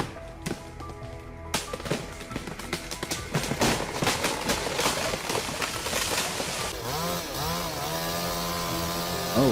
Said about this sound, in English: The sound of chainsaws roars